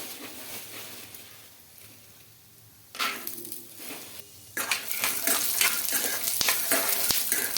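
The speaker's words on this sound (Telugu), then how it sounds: "ఆయిల్ అయితే హీట్ అయింది ముందుగా పల్లీలు అయితే వేసుకుంటానండి" Peanuts dropped into hot oil in a kadai for chutney, quiet at first, then a sudden burst of sizzling that grows louder and denser, with occasional clinks of a spoon against the pan.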